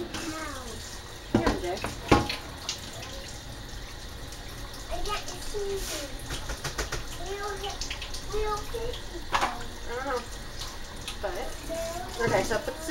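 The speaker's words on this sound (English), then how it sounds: "And I'm going to rinse up the sink a little bit." Tap water runs steadily into a kitchen or bathroom sink while it is rinsed before cleaning a betta fish bowl and rocks, a continuous splashing wash with occasional clunks, under a person talking.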